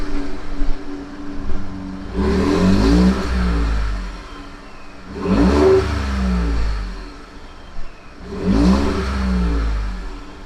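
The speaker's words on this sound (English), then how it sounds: "I'll start out with a clip of the stock exhaust" Stock exhaust on a Ford 2.7 EcoBoost engine is revved three times, each a deep rising and falling roar with a few seconds of idle between, loud and close.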